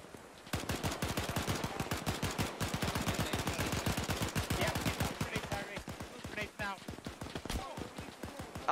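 Sustained suppressing fire from a Bren light machine gun in a military video game, a long rapid chain of loud, close bursts that thins into scattered shots near the end.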